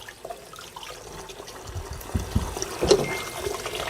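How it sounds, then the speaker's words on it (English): Tap water running over crystals to rinse off salt, a soft steady splashing with a few louder gurgles near the end, fairly close. "So I'm running basic tap water,"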